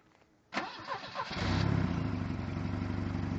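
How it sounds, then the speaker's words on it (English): A scrapped turbocharged Volvo engine in a scrap yard cranks briefly with a few starter whirs, then catches and settles into a loud, steady rough idle, close up with no talk. "Thing would still start."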